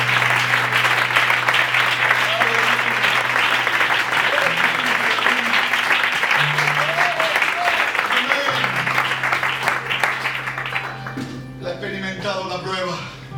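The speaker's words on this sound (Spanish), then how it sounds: "Le puedes dar un fuerte aplauso a ese Dios grande y poderoso" A church congregation applauds loudly and continuously for God. Steady dense clapping runs under a sustained tone and fades near the end as a voice begins speaking.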